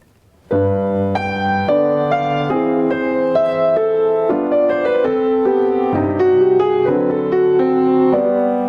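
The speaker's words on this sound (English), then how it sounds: "Music that expresses the first love between Walter and Eva" Lush orchestral music from Wagner's opera Die Meistersinger von Nürnberg, Act 1, swells in after a brief silence, sustained strings and winds carrying a tender, flowing melody at a steady moderate volume.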